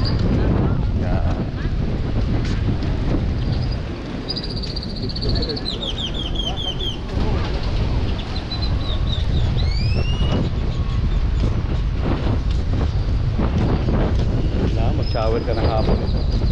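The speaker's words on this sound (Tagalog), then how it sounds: "Lakas ng hangin." Strong wind buffets the microphone aboard a boat, a steady loud rush with water noise, occasional bird calls and people talking throughout.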